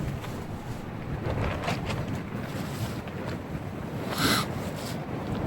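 Winter wind at 20 degrees rushes steadily past a tarp shelter in Iowa's Loess Hills, a constant low roar with a slightly stronger gust near the end, close and fairly faint.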